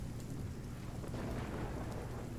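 Thunderstorm in the video game RuneScape: Dragonwilds, with steady heavy rain pattering on surfaces and a low rolling rumble of thunder throughout, loud and continuous without pauses.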